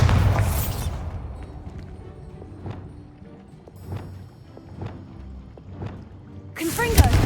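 In the Hogwarts Legacy video game, the Bombarda blasting spell erupts in a loud, close burst of noise at the start and again at the end, with quieter clattering, hoof-like knocks in between.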